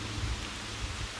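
Heavy rain beats down at Tonoyama Tunnel in Kanagawa, a thick, steady roar with a deep rumbling low end and no voices.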